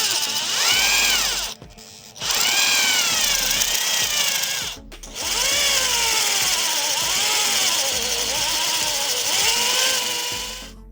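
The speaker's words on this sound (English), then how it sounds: "We place the bit on the drill and then begin the work." A power drill fitted with a 30 mm spade bit bores into a tree stump, its loud whining motor rising and falling under load, stopping briefly twice before grinding on.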